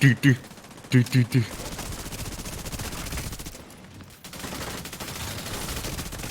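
A shotgun fires in The Division 2, a few quick loud blasts at the start, followed by sustained dense gunfire and battle noise.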